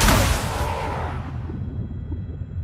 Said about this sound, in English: release the first missile volley